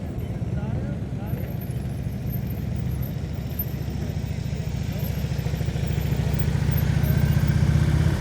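A motorcycle engine runs at low speed during slow-speed riding practice, a steady low putter that builds slightly toward the end. A voice talks over the engine.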